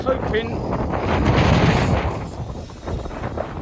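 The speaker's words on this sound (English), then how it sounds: "On the top of the headlands, the wind's starting to bite and push you around a bit." Wind on a coastal headland along a cliff-top walking path, a blustery rush buffeting the microphone, rising and then easing, with someone talking over it.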